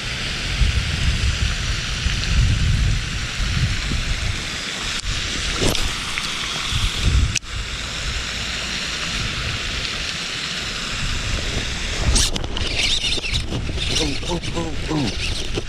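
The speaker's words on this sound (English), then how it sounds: "Here comes the rain." Steady rain pattering around an open fishing boat during an Illinois bass fishing outing, a constant broadband hiss with occasional louder gusts and bumps; someone talks over it now and then.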